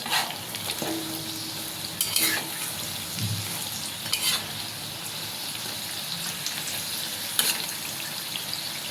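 Food frying in a pan gives a steady, close sizzle throughout, with occasional sharper crackles and pops and light clinks of a utensil stirring.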